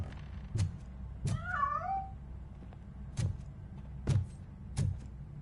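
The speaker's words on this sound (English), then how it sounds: "That cat must be hiding inside." A cat in the video game RoboCop: Rogue City, hidden inside a piano, gives one drawn-out, wavering meow between several sharp, hollow knocks and thuds, with no talking.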